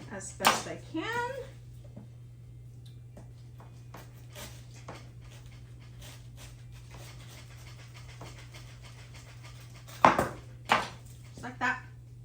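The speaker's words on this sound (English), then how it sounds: "I'm going to cut this into slices as best I can." A knife slices fresh fruit for a Christmas fruit bouquet, giving a few sparse, soft cutting taps spread across the clip over a steady low hum, with a short vocal sound near the start.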